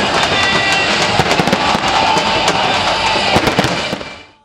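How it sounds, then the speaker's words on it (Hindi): Fireworks burst over a celebration at Liberty Chowk in Lahore, a dense, continuous crackle of firecrackers and popping explosions close by and loud, with a faint crowd murmur beneath. "लिबर्टी चौक में शानदार आतिशबाजी का मुजाहरा।"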